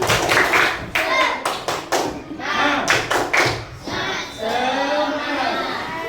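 A group claps out the rhythmic 'tepuk semangat' pattern, sharp in-unison claps in quick bursts with short pauses between, children's voices calling out around the clapping.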